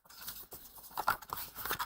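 A craft pick tool with a blade cutting through paper makes soft, close scraping and slicing strokes in irregular bursts, quiet and without speech.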